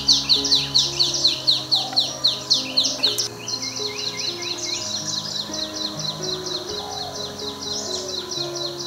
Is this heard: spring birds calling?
yes